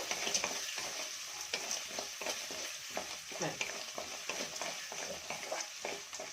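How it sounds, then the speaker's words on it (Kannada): Onions fry with turmeric powder in a pan for coriander leaves puliyogare, a steady soft sizzle broken by frequent scraping stirs of a spoon, with no talking. "ಚೆನ್ನಾಗಿ ಇಲ್ಲಿ ಈರುಳ್ಳಿ ಫ್ರೈ ಆಗಬೇಕು"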